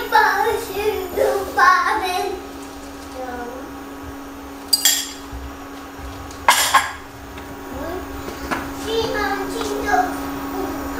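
Eggs are stirred in a bowl and tipped into a pan, with clinks of utensil against dish and two sharp metallic knocks, around a voice and other chatter in a kitchen with a steady background hum.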